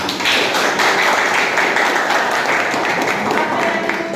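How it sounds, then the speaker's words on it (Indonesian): A classroom audience applauds, a burst of many hands clapping in a dense patter that starts quickly and carries on at an even level, fairly loud and close. "tepuk tangan."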